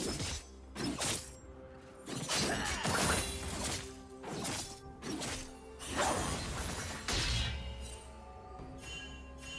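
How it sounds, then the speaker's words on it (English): A turret destroyed in League of Legends: a burst of loud crashing, smashing impacts and whooshes, several heavy hits in quick succession over about ten seconds with no talking. "Red Team's turret has been destroyed"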